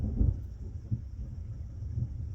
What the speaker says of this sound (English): you can hear lightning and thunder